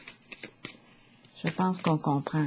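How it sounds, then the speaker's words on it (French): Tarot cards are shuffled with a few soft flicks, then a louder riffling shuffle, while someone speaks French over the later cards. "Je vais piger une autre carte."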